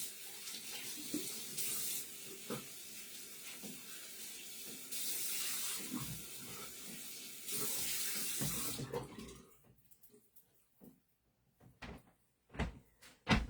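Water runs from a sink tap during face washing in bursts of steady splashing and hissing flow, then cuts off, followed by a few close knocks and clatters of items being handled.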